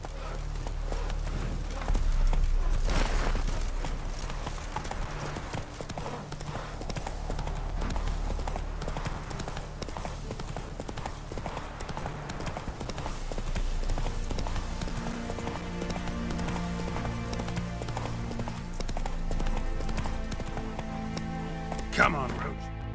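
Roach, the horse in The Witcher video game, gallops in a steady, rapid clip-clop of hooves that runs throughout, fairly loud and close, under a musical score with a voice speaking briefly.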